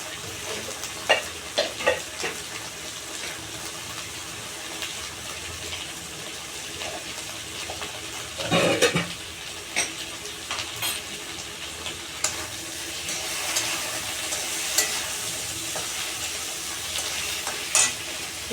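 Eggplant pieces for sambar fry in a pan with a continuous hiss, broken by stirring scrapes, occasional clinks and a louder burst of sizzle midway.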